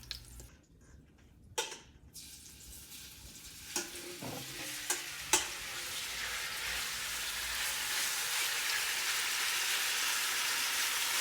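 Meat browns in a pot for Puerto Rican sancocho, with a few sharp utensil clacks and stirring knocks at first. A dense, steady sizzle then builds and fills the rest of the clip, close and continuous, with no talking.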